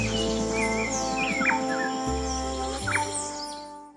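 Tropical forest birds in Sumatra's rainforest call repeatedly, with short chirps and whistled phrases over a steady droning insect chorus and a dense ambient bed throughout.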